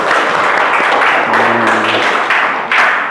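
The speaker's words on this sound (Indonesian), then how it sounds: "Tepuk tangan dulu untuk kita semuanya." Loud, dense hand clapping from a classroom of students fills the room, with a brief voiced tone partway through and claps continuing throughout.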